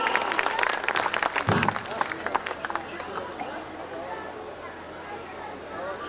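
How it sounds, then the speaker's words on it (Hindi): At a school annual function's poetry gathering, the audience claps for Anamika, starting loud and close, then fading within a few seconds into a soft murmur of crowd chatter and background noise. "एक बार जोरदार तालियां अनामिका के लिए।"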